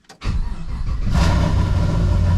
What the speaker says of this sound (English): we're going to start the car up just like it is